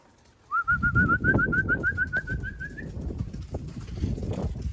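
A rapid string of repeated homing pigeon calls rises briefly over a muffled, gusty wind rumble as young pigeons fly, then fades, leaving the low rumbling to continue.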